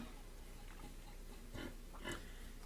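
A pig oinks in the Outlaws of the Old West game: faint, low grunts and a couple of short snorts heard over a steady background hum, with no one talking.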